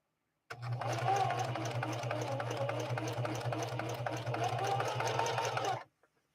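A Singer 4411 heavy-duty sewing machine stitches green cotton fabric in one steady, continuous run of about five seconds, its motor humming loud and close with a rapid even needle rhythm, then stopping abruptly.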